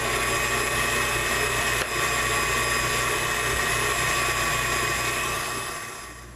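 An electric mixer whips heavy cream with powdered sugar on high speed, a loud steady whining motor hum that runs continuously close by, then begins to fade near the end.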